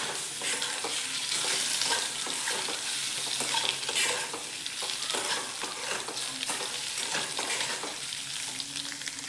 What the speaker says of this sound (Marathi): बघा 1 ते 2 मिनिटं फक्त आपल्याला ही भाजी अशी व्यवस्थित परतून घ्यायची